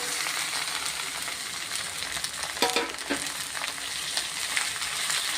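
Okra and onion sautéing in oil in a heavy-bottomed kadai, a steady close sizzle with a couple of sharp clinks from stirring near the middle, no talking.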